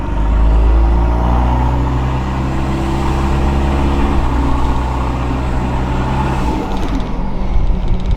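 A 79 series four-wheel drive cruising on the road, with a steady, loud low engine drone and road rumble that holds evenly throughout, heard from inside the cabin.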